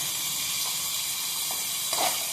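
Green chillies, tomato and coconut sautéing in a pan for paneer kurma, a dense steady sizzle with soft faint clicks of stirring, close and continuous.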